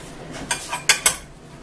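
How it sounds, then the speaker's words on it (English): Baby spinach gets mixed into sweet potato, onion, garlic and pepper in a pan, giving a few quick utensil clinks and scrapes against the metal, close and brief over quiet background. "We're just going to kind of mix the baby spinach in with the sweet potato and onion and garlic and pepper"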